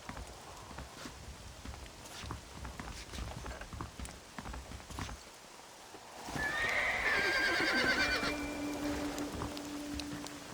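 Horses in the Red Dead Redemption video game: steady clip-clop of hooves over an outdoor ambience, then a loud, close whinny rising out of the mix and trailing off, with a faint honking fowl nearby.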